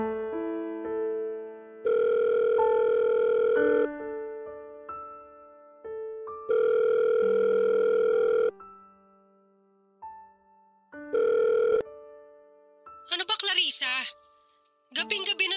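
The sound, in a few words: telephone call ringing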